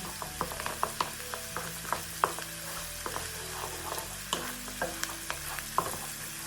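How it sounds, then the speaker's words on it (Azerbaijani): A teaspoon of tomato paste fries in a pan while being stirred for a sauce, giving steady close sizzling broken by repeated sharp scrapes and clinks of the spoon against the pan; nobody speaks. "Ardından bir çay qaşığı tomat pastası da əlavə edib qarışdırıram."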